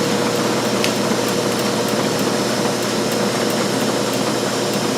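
Milling machine spindle running at about 2,000 RPM gives a steady, loud mechanical whir and hum, continuous and unchanging, with faint regular ticking on top.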